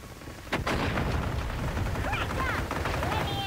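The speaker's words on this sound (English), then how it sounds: "Taking fire here." Gunfire in Call of Duty Modern Warfare 3 during a solo Resurgence match: a sharp nearby shot, then a steady stream of rapid automatic fire with booming low rumble and brief whistling effects, loud throughout.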